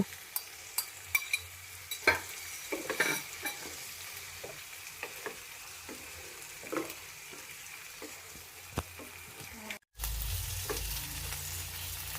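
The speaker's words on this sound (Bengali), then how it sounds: "এবার এতে দিয়ে দিব আদা রসুন পেস্ট এবং ভালো করে ভেজে নিব" Ginger-garlic paste sizzles in a pan while a utensil clicks and scrapes against it in scattered strokes, then a louder burst of frying takes over near the end.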